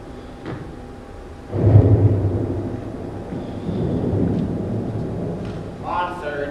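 A staged thunderstorm effect rolls through a youth musical performance, a sudden loud low rumble that swells and lingers, with a second softer roll and voices from the stage near the end.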